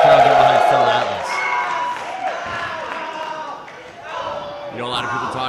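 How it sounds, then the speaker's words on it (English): Wrestling crowd cheering at a tournament match, a steady roar of voices that carries throughout, with a commentator talking over it. "Listen to the crowd get behind Phil Atlas."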